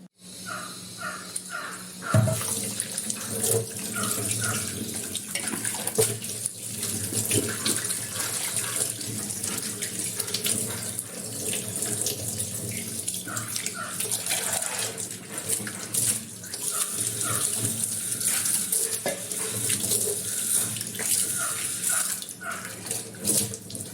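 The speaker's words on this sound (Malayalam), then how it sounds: "അപ്പോൾ നമുക്കിനി കഴുകിയെടുക്കാം." Brass and copper vessels rinsed under a running tap, a continuous splashing water stream over the metal, with occasional clinks and a crow calling in the background.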